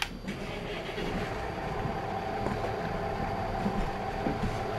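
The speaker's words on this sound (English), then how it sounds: "Let's start it up." A heavy diesel engine of a Fiatagri Series 90 tractor in Farming Simulator 22 cranks and catches, then settles into a low steady rumble with a faint turbo whine above it.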